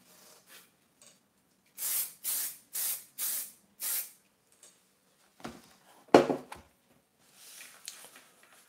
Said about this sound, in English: so I'll spray again